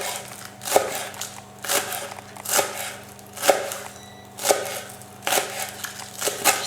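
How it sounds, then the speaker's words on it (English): A knife chops Chinese chives on a board in steady, evenly spaced strokes, about one per second, each a crisp thud with a short scraping tail, close and clear with no talk. "that's good chopping"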